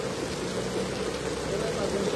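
Heavy rain pours steadily during a downpour in Silchar, Assam, where floodwater is rising around a flat, giving a continuous dense wash of noise with no breaks, close and fairly loud.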